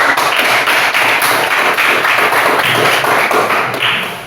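Students in a grade 9 classroom clap their hands together in a loud, dense burst of overlapping claps that holds steady for about four seconds before tapering slightly at the end.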